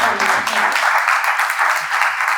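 An audience claps and cheers in dense, continuous applause at a day camp event, loud and close throughout the short stretch.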